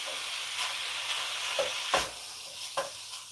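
Hamburger meat browns in a pan for pot pie, a constant hissing sizzle with a few scraping stirs and clinks of the utensil against the pan.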